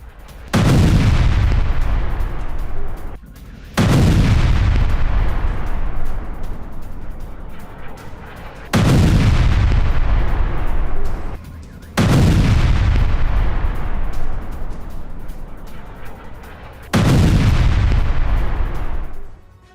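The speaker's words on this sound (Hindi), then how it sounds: "रूस ने कीव पर दागी कई मिसाइलें।" Heavy booms from Russian missile strikes and air defense fire over Kyiv, five massive blasts each followed by a long rumbling decay, loud and close, with roughly three to four seconds between them.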